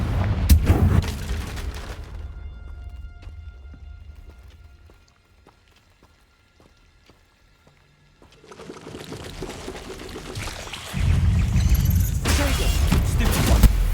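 In Hogwarts Legacy, the Confringo fire spell bursts with a loud, roaring blast that fades to near silence, then another heavy rumbling blast swells up and holds to the end.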